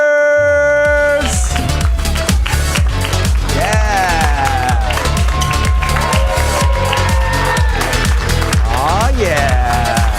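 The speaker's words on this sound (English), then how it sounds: "Keep that applause going for your Curious Comedy players!" Applause and cheering from an audience at a live comedy show, loud and sustained throughout, with a host's voice shouting over the crowd.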